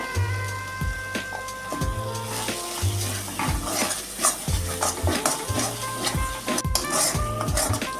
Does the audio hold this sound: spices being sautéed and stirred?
yes